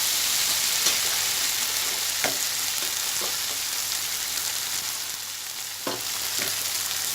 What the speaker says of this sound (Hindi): अब हम इसमें टमाटर डालेंगे और मसाले मिक्स करेंगे